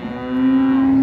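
A cow at the Águas Belas cattle fair gives one long, loud, steady moo that swells and holds, close by, with no talk over it.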